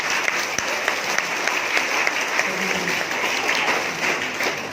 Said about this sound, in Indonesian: Beri tepuk tangan buat Tuhan.